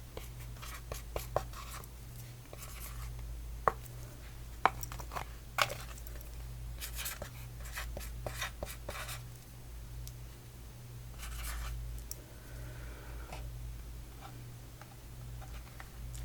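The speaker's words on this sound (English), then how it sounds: "So I'm just going to start writing these out." A pen writes on paper in an ASMR-style classroom scene, with close, soft scratching strokes and occasional light taps over a steady low hum, no talking.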